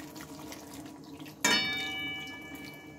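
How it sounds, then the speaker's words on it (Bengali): Water is suddenly poured into a cooking pan holding an egg and potato dish, making a brief splash and ringing metallic tone that fades over a couple of seconds against quiet kitchen background. "আবারও আমি বেশ খানিকটা জল দিয়ে নেব।"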